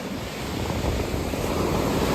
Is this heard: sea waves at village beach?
yes